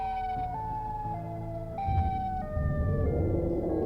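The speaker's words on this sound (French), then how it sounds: "une sirène retentit au loin" A distant wailing siren slowly steps up and down in pitch, with a warped, uneasy quality over a low rumble that swells toward the end, and no voices.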